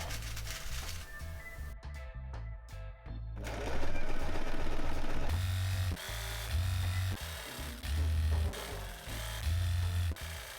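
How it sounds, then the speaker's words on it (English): A sewing machine stitches a double hem on a dress, running in several short, steady whirring bursts separated by brief pauses. The sound is close and clear with no talk. "make a double hem to be able to pin it and then sew it together"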